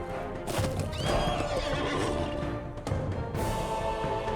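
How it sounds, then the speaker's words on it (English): Wild horses in the online game The Lord of the Rings Online, with loud, close neighs and whinnies repeating over a busy stretch of hoof clip-clops and game ambience, no voices. "Okay, so here you have the wild horses."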